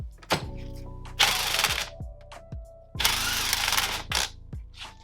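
An impact wrench hammers at a stuck part on a motorcycle fork during a fork seal job, two loud sustained rattling bursts separated by sharp clanks and knocks, close by.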